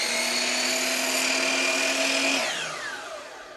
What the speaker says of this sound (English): I'm going to start in a corner, so I'll cut a 45-degree miter on one end